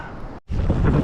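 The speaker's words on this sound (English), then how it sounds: "Oh, the wind blowing all this snow through the forest is sweet." Wind blows snow through a forest on a snowshoe trail, making a close, rushing roar against the microphone that cuts out for a split second and then returns just as strong.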